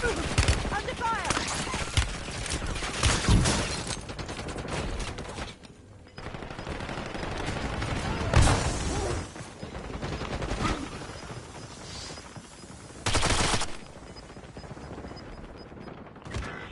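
Gunfire in Call of Duty Warzone: dense bursts of automatic fire and single shots crackling loudly and near, in clusters with short lulls, mixed with mechanical clatter and occasional voices.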